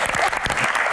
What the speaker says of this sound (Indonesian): Tepuk tangan untuk Mbah Tejo.